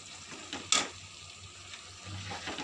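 A little water is poured into masala for palak matar paneer, simmering in a pan over medium heat: a brief splash followed by a faint, steady sizzle and bubbling, quiet and close, with no talk.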